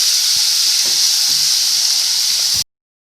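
Crushed bottle gourd sizzling in hot oil with fried cumin in a pan, a dense close hiss with a few soft stirring knocks underneath, cutting off abruptly to silence near the end.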